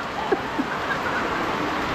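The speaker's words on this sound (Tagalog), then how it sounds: "napakalakas po talaga ng ulan" Heavy rain pours down as a steady, dense wash of noise that fills the whole short stretch, with a couple of faint splashy drops standing out near the start and no talking.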